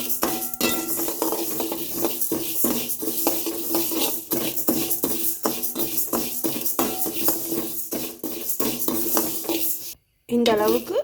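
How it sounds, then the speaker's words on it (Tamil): Moong dal being dry-roasted in a kadai and stirred: close, rhythmic scraping and rattling strokes of a spoon against the metal pan, repeated steadily with a short pause near the end. "பாசிப்பருப்பை கடாயில் போட்டு நல்லா வறுத்து எடுத்துக்கலாம்."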